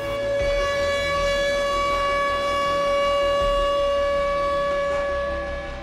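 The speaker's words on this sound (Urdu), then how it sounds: "ملک بھر کے شہروں میں فضائی حملے کے سائرن کی آوازیں معمول بن چکی ہیں" An air raid siren in Ukraine wails steadily and loudly, one unbroken tone holding throughout with a low background rumble beneath it and no voices.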